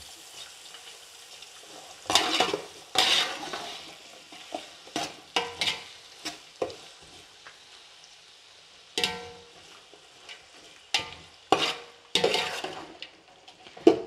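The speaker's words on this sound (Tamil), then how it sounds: "ஸோ ஆனியன் ஃப்ரை ஆகட்டும், அதுக்கப்புறம் டொமேட்டோலாம் ஆட் பண்ணலாம்." Onions with a pinch of salt fry in a pan for prawn biryani. A quiet background sizzle is broken by sharp, irregular bursts of stirring and utensil scraping close by, with no speech.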